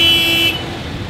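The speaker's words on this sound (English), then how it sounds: "We're in a traffic jam." A car horn blares in a Georgetown, Malaysia traffic jam for about half a second and then cuts off, leaving a steady low rumble of idling traffic close by.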